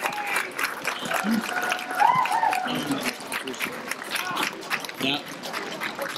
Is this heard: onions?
no